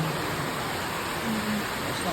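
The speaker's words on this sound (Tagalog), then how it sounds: "Lakas ng ulan ngayon" Heavy rain pouring steadily, a dense broadband hiss that holds at an even, fairly loud level throughout with no breaks.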